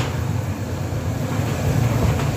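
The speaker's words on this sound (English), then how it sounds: "we go on Ghost Train at Dymchurch Amusement Park." A ghost train car at Dymchurch Amusement Park rolls along its track with a steady low rumble and rattle, continuous and close, with no voices.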